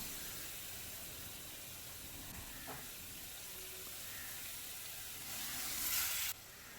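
Food sizzles steadily in a hot pan as tomato paste is sautéed, a constant close hiss with a brief stir partway through and a louder spitting burst near the end.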